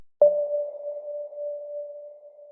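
A single clean sonar-style ping rings out, then sustains as a steady mid-pitched tone that slowly wavers and fades slightly, with no other sounds.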